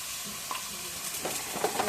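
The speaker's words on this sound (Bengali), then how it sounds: "পেঁয়াজটা তেলের মধ্যে ভাজা হয়েছে, এখন ওই যে মরিচের গুঁড়াটা পরিমাণ মতো দিই" Onion fried in hot oil being stirred as chili powder goes in, with soft scraping of a spoon against the pan and a light, irregular sizzle close by, without any talking.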